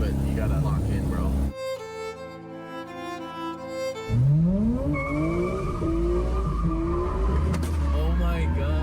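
A sports car drives hard, its engine revving up and shifting through rising pitch sweeps with tire squeal, broken by a stretch of music and overlaid with talk.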